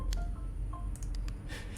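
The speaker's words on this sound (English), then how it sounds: "That was my phone sending me a text message." A phone text-message notification sounds as a short series of quiet, clipped electronic blips and clicks over a low background hum, with no talking.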